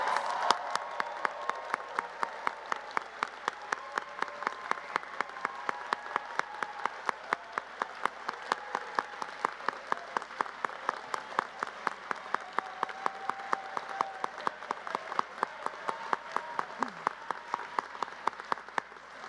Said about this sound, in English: how about one more gigantic round of applause for all of our graduates?